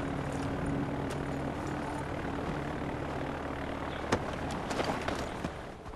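An airplane about to take off in Far Cry 4 drones with a steady engine roar, alone, with a few sharp clicks and swells near the end.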